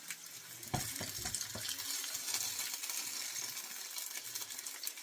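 Rosemary pork chops sizzle steadily in a pan, with a few sharp metallic clicks of tongs near the start. The frying hiss stays quiet and even throughout, with no talking.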